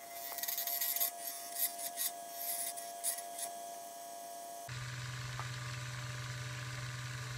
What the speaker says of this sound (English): Beautiful curls off the lathe right now.